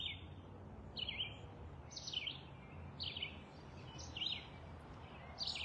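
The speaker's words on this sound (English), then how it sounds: "we're back here with the birds in my backyard, with some traffic going by." Birds sing in a backyard, short bright chirping phrases repeating about once a second, over a steady low rumble of passing traffic and no talking.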